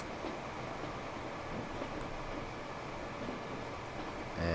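A steady rumbling roar of video-game trains running on rails in a race in Transport Fever, continuous and fairly loud, with a faint mechanical hum and no talking.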